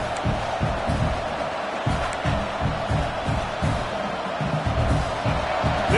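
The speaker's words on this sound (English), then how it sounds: "This crowd bringing the energy and noise early." Stadium crowd noise from a Madden NFL football video game, a steady loud roar of cheering fans with rhythmic thumping pulses underneath, continuous throughout and with no talk over it.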